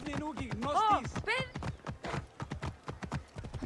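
Rapid hoof clip-clops of a galloping horse in the video game Assassin's Creed Origins, with a voice talking over it and a brief whinny-like sound early on.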